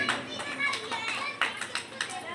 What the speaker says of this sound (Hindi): एक बार भाई साहब के लिए ताली हो जाओ।